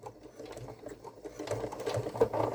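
Sewing machine stitching slowly through the thick side seam of a fabric Halloween bucket, a steady close mechanical whir with a soft rhythmic needle patter that grows louder toward the end.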